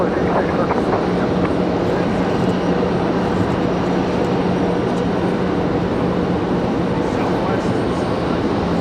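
Southwest Airlines jet departing Raleigh Durham International Airport, a steady distant engine roar with a low hum running underneath, constant in level throughout, with a voice heard faintly.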